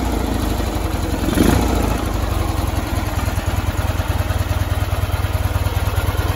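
A Ural M66 motorcycle engine with 6-volt contact ignition catching and settling into a steady, rhythmic, thumping idle, close by with a soft intake and exhaust chuff.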